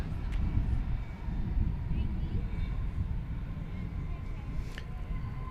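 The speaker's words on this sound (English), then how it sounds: "It's an Airbus A320 from Eugene," An American Airlines Airbus A320 dating from around 2000, flight 3053 from Eugene, Oregon, moves at DFW Airport at night, giving a steady, moderate engine rumble that holds evenly without a clear rise or fade.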